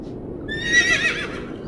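A horse whinnies as a cart sets off at a gallop: one loud, high, wavering neigh in the middle over a low rumbling background.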